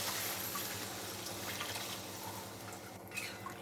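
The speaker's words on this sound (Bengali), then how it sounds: "এখন পরিমাণ মতো গরম জল দিয়ে দেব।" Hot water poured into a pan of Bengali rui fish curry, a steady liquid rush and trickle that runs throughout at moderate level with no talking.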